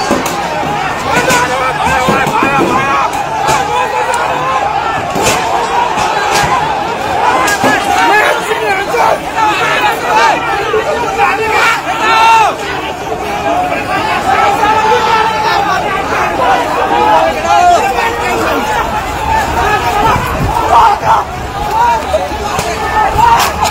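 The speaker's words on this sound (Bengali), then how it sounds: "slogan then Gen Z" Gen Z protesters crowd outside the house of ousted Nepali prime minister KP Oli, shouting slogans against the CPN-UML; a steady, dense babble of many voices and chatter continues throughout, loud and close.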